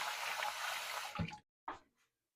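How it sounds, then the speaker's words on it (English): A peeled cucumber is rinsed under a running kitchen tap, a soft steady splashing of water that stops abruptly, followed by a couple of faint drips and light handling noises. "Then I like to rinse mine off."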